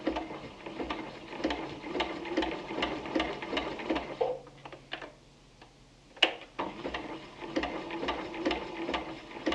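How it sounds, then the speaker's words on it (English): Sewing machine stitching fabric appliqué, a fast, even run of close mechanical ticks that stops briefly, then starts again at the same steady pace, with no voices. "I'll stitch all the way down to the zigzag."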